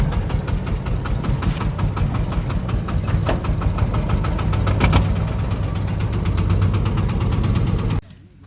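A four-wheeled farm vehicle's engine runs steadily and loudly, with a knocking, mid-pitched idle that holds for about eight seconds before cutting off.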